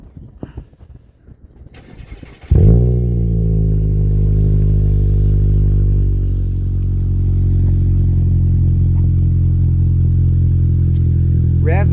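A Mitsubishi Lancer GT fitted with an aftermarket exhaust with a bigger-than-stock outlet cranks and fires loudly after a few quiet clicks, then settles into a deep, steady idle rumble.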